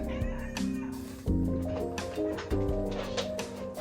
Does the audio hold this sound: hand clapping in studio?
no